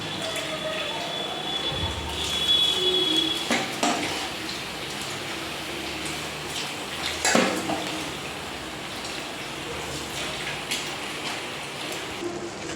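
Soaked rice being drained of its water and tipped into a cooking pot in a home kitchen, with a splashing pour and a few clatters of rice and utensils against the pot, moderately close.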